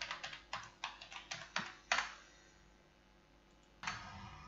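Keys clacking on a computer keyboard in quick, crisp strokes, about eight close taps in a row, then a pause and one more click, with no talking.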